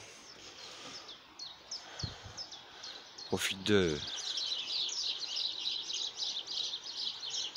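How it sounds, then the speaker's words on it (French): Small birds chirp and tweet repeatedly in a garden, a steady chorus of high calls throughout with a brief voice speaking partway through. "les oiseaux qui viennent, ils sont contents"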